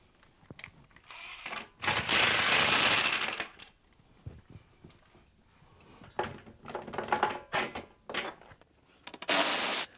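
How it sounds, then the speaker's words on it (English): Impact gun removing TV wall mount bolts, loud bursts of rattling hammering separated by pauses, with clinks and handling noises between runs. "To remove the bolts, I like to use an impact gun, which makes the job a lot faster."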